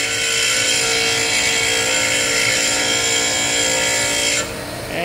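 A bench grinder wears down an HSS lathe tool bit, a steady loud high-pitched whine and grinding hiss that holds for over four seconds before the contact eases off.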